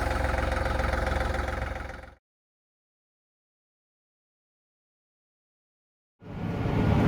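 A tractor engine idles with a loud, even mechanical drone that cuts out completely for about four seconds before resuming just as strongly.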